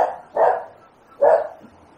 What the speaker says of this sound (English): sometimes a dog barking in the background